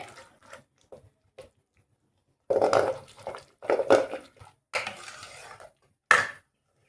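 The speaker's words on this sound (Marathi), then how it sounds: "आता काय करायचं आपल्याला रवीनी छान बोटून घ्यायची आहे बघा या पद्धतीने" Cooked urad dal is mashed with a wooden churner in a pot, making bursts of wet scraping and sloshing separated by quiet pauses, close by, with no talking.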